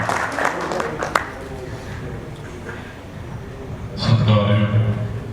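Applause greets an MLA at a Dera Bassi press club ceremony, a crowd clapping under a speaker's amplified voice, swelling louder near the end.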